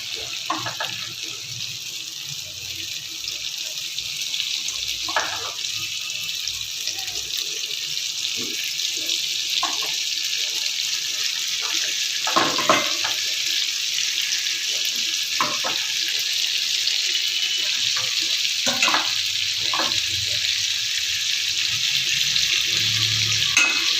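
Washed, drained chicken pieces go into a hot pan of spices for chicken kosha and fry with a steady, loud hiss and sizzle. Occasional stirring clinks sit over the continuous sizzle.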